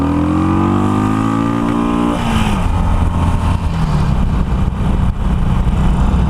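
A Harley-Davidson Iron 883 motorcycle with modified exhaust revs hard, its pitch rising steeply until it hits the rev limiter about two seconds in, then a loud, rough, sustained engine roar.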